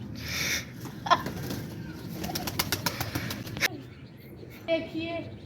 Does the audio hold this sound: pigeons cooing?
yes